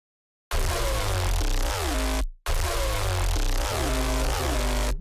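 A synth patch imitating an electric guitar distorted into oblivion plays twice, a harsh gritty drone with a falling pitch-envelope swoop, loud and alone, separated by a brief gap.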